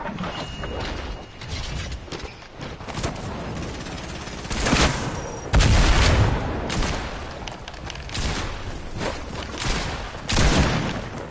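Gunfire in Fortnite, loud irregular shots and bursts mixed with mechanical clicks and rattles from the game, heavier volleys near the middle and end, with no talk.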